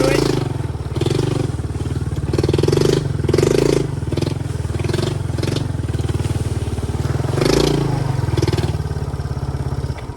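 A Yamaha YTM200 three-wheeler grinds in first gear through a deep trail section, its engine loud and close with uneven surges, while a rider keeps talking over the noise.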